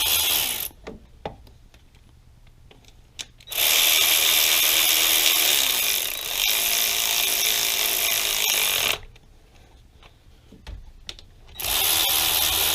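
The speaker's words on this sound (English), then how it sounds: "I always like to start my bolts before I grab my ratchet. Tighten those guys up." A hand ratchet tightens coil pack bolts on a 2005 Dodge Ram 5.7 Hemi engine in quick, loud bursts of clicking. Short quiet pauses separate the bursts, and there is no talking.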